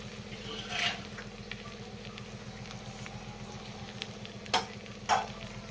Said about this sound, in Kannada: ರವೆ ನಾನು ಯಾಕೆ ಈ ಥರ ಉಪ್ಪಿಟ್ಟು ಮಾಡ್ತೀನಿ ಅಂತಂದರೆ, ಇದು ಆಯಿಲಲ್ಲಿ ಚೆನ್ನಾಗಿ ಫ್ರೈ ಆಗಬೇಕು